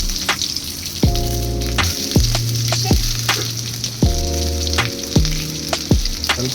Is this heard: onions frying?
yes